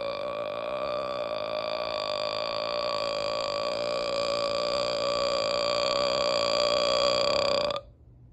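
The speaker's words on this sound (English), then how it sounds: "Afterward, they each let out the loudest, strongest burps ever." Two loud, sustained cartoon burps from SpongeBob and Patrick rumble continuously for nearly eight seconds with a strong buzzing tone, then cut off abruptly into silence.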